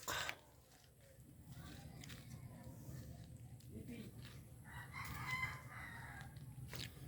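A rooster crows in the distance over a low outdoor hum in the rural Philippine countryside, with faint clucking of chickens and rustling nearby.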